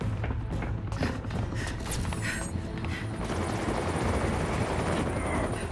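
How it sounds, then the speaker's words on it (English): Helicopter flying in a PlayStation 4 Batman Telltale game scene, a steady loud rotor roar with dense low-frequency chop filling the whole stretch, no speech over it. "I think she is off the helicopter."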